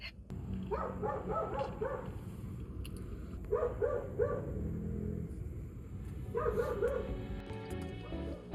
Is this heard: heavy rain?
no